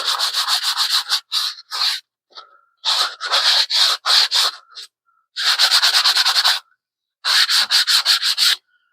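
Sandpaper rubs off excess glue in brisk, close back-and-forth strokes, coming in several bursts of rhythmic scratching separated by short pauses.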